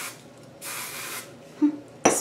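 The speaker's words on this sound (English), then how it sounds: "Spray, spray." A handheld spray bottle gives a few short hissing spritzes, the first longest, then a quick burst at the end, close and clear against a quiet room.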